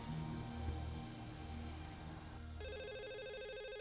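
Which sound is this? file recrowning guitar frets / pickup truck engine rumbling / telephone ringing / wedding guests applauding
telephone ringing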